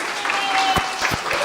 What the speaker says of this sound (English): please applaud the craziness out of one another